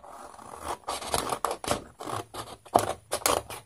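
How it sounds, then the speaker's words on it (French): Scissors snip repeatedly through small pieces of craft material for a homemade Christmas house, making a quick, irregular run of close, crisp cuts with no talking. "c'est pas des grandes choses à couper, donc des ciseaux feront bien l'affaire"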